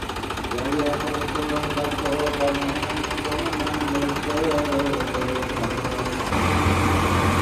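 A new Farmtrac 45 tractor engine runs steadily outdoors near a gurdwara, a close, rough, rhythmic diesel chug with a louder, lower rumble toward the end, while someone talks over it.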